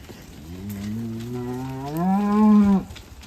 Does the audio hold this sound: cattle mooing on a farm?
yes